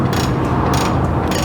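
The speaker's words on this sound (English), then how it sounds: "a ratchet system for your bottom conveyor. So on your bottom conveyor, we will be able to adjust it by bringing up and down with this lever" A ratchet lever adjusts the bottom conveyor of a belt puller, making a close, loud, rapid train of clicking and mechanical rattling for a second and a half.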